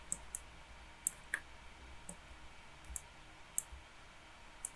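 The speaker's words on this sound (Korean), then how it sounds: "클릭" Mouse clicks in a Maya 3D software lecture: sharp, isolated clicks spaced irregularly about every second, near and clear over a faint steady room hiss, no talking.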